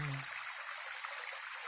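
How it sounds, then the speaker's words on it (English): Running water of an outdoor stream, a steady bright hiss and babble filling the scene at even loudness, preceded by a brief low tonal note at the very start. "Oh, plenty of running water."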